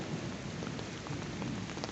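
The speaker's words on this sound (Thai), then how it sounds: "โอ้ฝนตกนะคะ" Steady rain pours close by, a dense continuous hiss of drops striking surfaces with no pauses and no voices over its two seconds.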